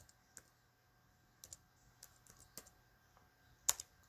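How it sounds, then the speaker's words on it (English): Keys click on a computer keyboard as words are typed in a Windows install command prompt. The taps come close and quiet in uneven, sparse bursts, ending on a louder keystroke like a press of enter. "the next thing you want to do is type in the words select"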